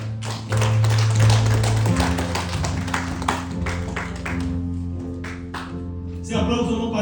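A church congregation claps in a sparse, uneven burst of individual hand claps, with a sustained organ or keyboard tone playing underneath.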